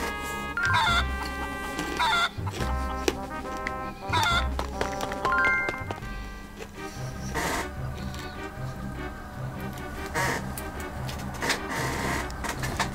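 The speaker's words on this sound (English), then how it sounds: "Oh, poor chicken is afraid of me." Repeated clucking from a chicken in a Zelda video game, several short bursts spread over the stretch alongside game sound effects and music, fairly quiet overall with no speech.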